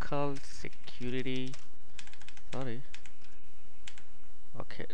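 Quick keystrokes on a computer keyboard, rapid light clicking under a person's voice talking over it.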